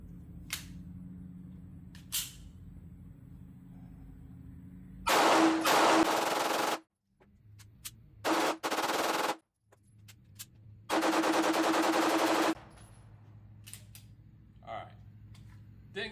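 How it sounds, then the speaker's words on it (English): HK VP9A1 pistol firing at a range in bursts of rapid, sharp, loud shots, with quieter handling noises between strings. "I'm still gonna have to go back and reload another mag or two to finish out the first 500 rounds"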